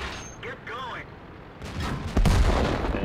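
A tank shell glances off armor in World of Tanks, one sharp metallic impact amid game battle noise and other distant shots, with a voice talking over it.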